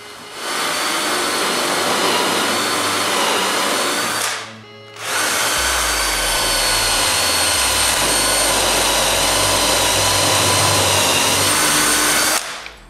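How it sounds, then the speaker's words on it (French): A power drill bores four holes through a wooden soffit jig, a steady loud whine running for several seconds, pausing briefly, then resuming for a second long stretch, with no talking. "La dernière chose à faire pour mon gabarit est de percer 4 trous pour que tout reste aligné en place."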